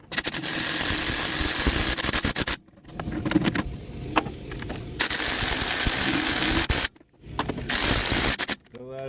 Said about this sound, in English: You want to get as much slack as you can out of these lug nuts